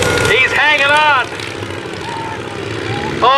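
A propeller airplane engine drones loudly and continuously as the plane performs slow rolls at the Rhinebeck Aerodrome airshow, with a voice talking over the engine noise.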